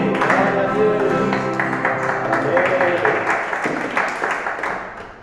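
A church congregation claps along in steady rhythmic applause, fairly loud and sustained, with singing voices mixed in over the clapping.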